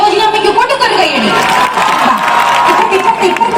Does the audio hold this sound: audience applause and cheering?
yes